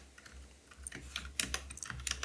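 A computer keyboard being typed on with quick, irregular bursts of key clicks, near and fairly quiet, no talking.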